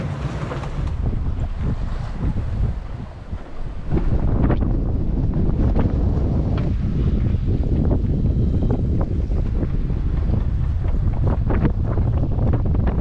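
Strong wind buffeting a sailboat at anchor at night, a steady loud roar with heavy rumbling gusts on the microphone, surging even louder after a brief lull.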